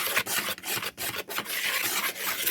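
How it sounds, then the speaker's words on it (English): A whisk scrapes quickly around a bowl, mixing dry baking ingredients with cinnamon. Close, rhythmic rasping strokes with short pauses and no talking. "I'm just going to whisk all these ingredients together."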